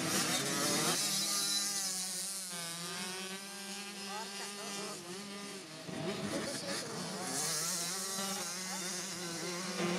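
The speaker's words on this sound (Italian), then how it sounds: "Si accendono i motori per questo trofeo." Motocross motorcycle engines running at a motocross trophy race, several loud buzzing two-stroke engines revving and rising and falling in pitch together, close and continuous throughout.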